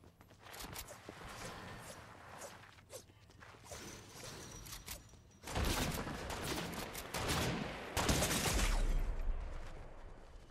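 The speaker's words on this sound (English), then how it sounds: "Whoever's doing that shooting up there is not very good." Gunfire in Fortnite crackles in irregular bursts and scattered shots amid game mechanism sounds, growing denser and louder in the second half.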